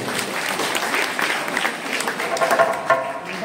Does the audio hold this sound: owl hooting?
no